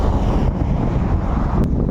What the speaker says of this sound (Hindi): यहाँ पे इतना ज़्यादा हवा चल रहा है ना,